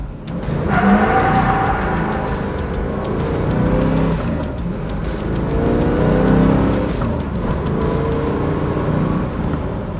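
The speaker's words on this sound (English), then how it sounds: "we're gonna do a little rolling acceleration run here." A 1967 Chevrolet Camaro RS with a small-block V8 accelerating on a rolling run, its engine roaring steadily and loudly through the gears with a continuous exhaust drone and rising and falling revs, no talking.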